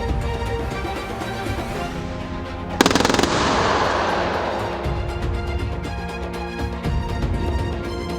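A 30mm wheeled anti-aircraft gun fires during a ground firing test, a loud, rapid staccato burst cutting through a heavy, continuous rumble of blasts and mechanical roar.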